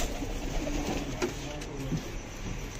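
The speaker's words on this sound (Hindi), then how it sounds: "अपने सभी कबूतर बाहर आ रहे हैं" Pigeons coo in low, throaty murmurs nearby, with faint background noise around them.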